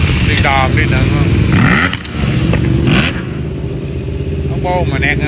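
Motorcycle exhausts rev hard at a street race, engines rising and falling in repeated bursts up close while people talk over the roar.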